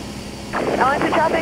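A Cessna Skyhawk light aircraft drones in flight while entering a traffic pattern, a steady engine hum filling the cabin under a pilot's radio call that begins midway.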